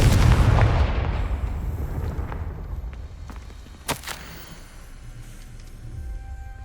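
In the game Hogwarts Legacy, a Confringo fire spell bursts with a loud, deep explosive roar that decays slowly into a rumbling tail, followed a few seconds later by a sharp crack and faint lingering debris.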